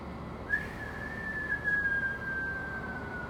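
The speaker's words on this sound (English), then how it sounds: "Also gonna whistle on the exhale." A person whistles a single sustained tone on the exhale, held steady for several seconds and fading slightly, over a quiet room hum.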